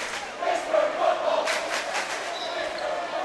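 A high school boys basketball crowd, Ensworth's fans, chants in a rhythmic swell of many voices filling the gym, moderately loud and sustained, with a commentator's voice faintly over it.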